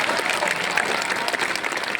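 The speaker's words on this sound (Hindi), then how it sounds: "एक बार सबको ताली बजाओ जो 9 दिन पैदल चला।" Dense, steady applause from a crowd gathered at a Bageshwar Dham religious event, continuous clapping filling the whole stretch at an even, lively level with no break.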